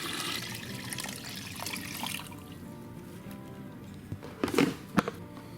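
Water pours into a blackberry wine mash, a steady trickling and splashing that thins out partway, then a few louder gurgling splashes near the end, close by with no talk.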